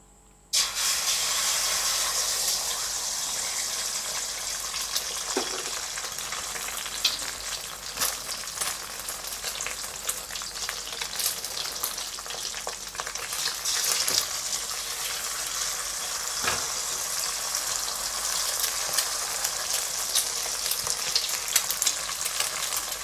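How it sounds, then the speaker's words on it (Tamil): Two beaten eggs poured into hot oil for egg pepper rice, bursting into a loud close hiss that settles into a steady sizzle with occasional scrapes and pops, lasting over twenty seconds without talk. "எண்ணெய் ஆட் பண்ணிக்கலாம். முட்டை 2 முட்டை உடச்சிருக்கோம், அதை ஆட் பண்ணிக்கலாம்."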